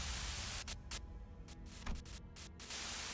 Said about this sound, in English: sudden buzz of white noise breaks through the truck's silence.